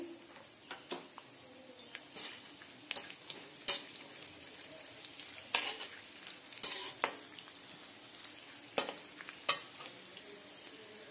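Dry fruits and raisins roasting in a hot kadhai, repeated sharp spatula scrapes and taps against the pan over a faint steady sizzle, close and uneven in rhythm.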